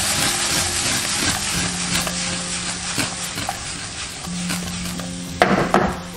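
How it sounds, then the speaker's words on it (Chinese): Winter melon and dried shrimp stir-fried in a wok over high heat with a splash of water, giving a steady close sizzle and hiss with scraping and stirring clatter, plus a sharper clank near the end. "加入一点点清水，大火翻 炒，最后撒上蒜苗"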